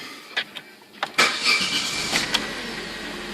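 An Opel Corsa 1.4 engine cranks with a few short bursts, then catches and settles into a steady idle, heard up close with no talking.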